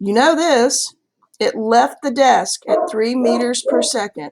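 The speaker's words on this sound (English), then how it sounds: "Please excuse the dog barking in the background." A dog barks in the background in short bursts, mostly buried beneath a person speaking steadily and close up.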